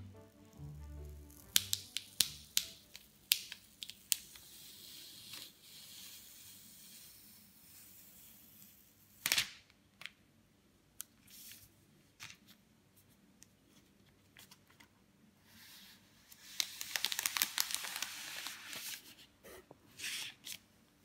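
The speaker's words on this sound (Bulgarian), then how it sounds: "махането на пластика от самия iPad" Protective plastic film being peeled off a new iPad Pro 9.7, close up: scattered crackling rips and rustles, short sharp bursts with quiet gaps, a longer crinkly stretch near the end.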